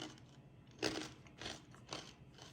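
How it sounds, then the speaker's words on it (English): Crunchy Cajun cracklins, deep-fried pork belly slices with the rind on, are bitten and chewed close by. A few crisp crunches come in an uneven rhythm, faint and alone. "You can see it's been sliced like a slice of pork belly that still had the rind on it, and that's what makes it hard and crunchy."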